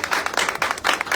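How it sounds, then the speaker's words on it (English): Audience applause comes in a brief burst of dense clapping, pulsing slightly, moderately loud and close. "A little bit of applause, please."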